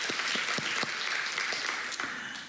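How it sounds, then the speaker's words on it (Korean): Church congregation applauding during a Thanksgiving worship service, a dense, steady burst of clapping that fills the room for a couple of seconds before easing slightly at the end. "우리를 이곳까지 인도하신 하나님께 박수의 영광 올리겠습니다."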